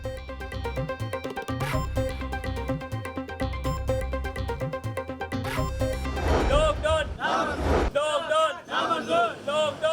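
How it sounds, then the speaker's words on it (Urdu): Shopkeepers in Lahore chant slogans in protest against the administration after police action over shops opened during lockdown; a loud, rhythmic crowd chant rises after a stretch of music. "دکانداروں کا انتظامیہ کے خلاف شدید احتجاج اور نعرے بازی"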